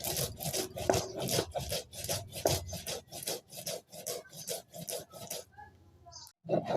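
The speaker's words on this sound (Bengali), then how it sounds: "সর্ষটা বেটে নেব।" Mustard seeds ground into paste by hand, heard as a rhythmic, close rubbing and rasping of stone strokes at a quick steady pace, fading out near the end with a brief knock.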